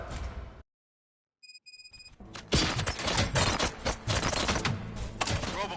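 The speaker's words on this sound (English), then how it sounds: "Gunshots? What's going on?" Gunfire in the RoboCop: Rogue City video game bursts in after a brief silence and a few high electronic beeps, continuing as dense, loud, rapid shots and impacts for several seconds.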